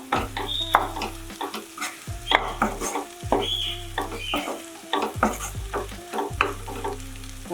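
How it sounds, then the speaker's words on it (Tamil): Okra with onion and tomato sautéed in a pan, with a spatula scraping and stirring in a steady rhythm over a constant sizzle and a low recurring hum, close and clear. "இப்போ வெண்டைக்காய் போட்டுக்கலாங்க. வெங்காயம் தக்காளி நல்லா வதங்கினதுக்கப்புறம் போட்டுக்கோங்க."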